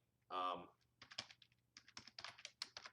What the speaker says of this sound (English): you're probably like, what is he typing?